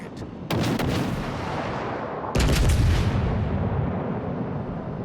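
Main guns of the German battleship Brandenburg firing in World of Warships: two heavy booming salvos, the second louder, each leaving a long rumbling roar that fades out, with no voices.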